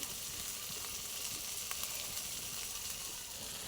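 Mustard paste and green chilli paste frying and being stirred in hot oil, a soft continuous sizzle with light hiss and occasional faint stirring clicks, quiet and close, no talking.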